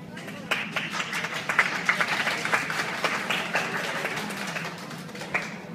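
Steady audience applause welcomes badminton players at a Thai event, a dense wash of many hands clapping throughout, with an announcer's voice and crowd murmur mixed underneath.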